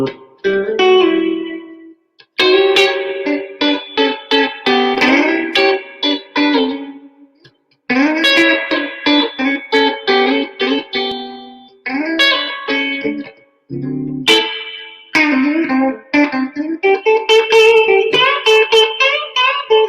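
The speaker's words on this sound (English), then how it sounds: "it's super cool having a tube reverb" Electric guitar played through a Hero Jr. amplifier with tube reverb, picked phrases and chords ringing out with a reverberant tail, loud and close with brief pauses between passages.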